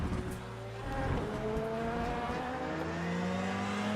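An LMP2 prototype race car in the sim racing game Le Mans Ultimate at Interlagos, its engine droning steadily with shifting pitch as it passes close by amid other engine noise.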